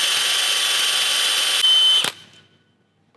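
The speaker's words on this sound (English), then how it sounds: "I'm gonna grab a 16mm socket. I'm gonna tighten this thing down." A power tool with a 16mm socket whirs steadily while tightening a nut on a Toyota Land Cruiser 100 Series torsion bar, then bears down with a brief strained whine and stops abruptly, leaving near silence.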